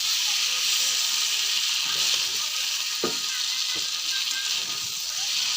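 Bay leaves sizzle and crackle in hot oil in a wok with potatoes and eggs, a steady close, loud frying hiss throughout with a couple of sharper pops.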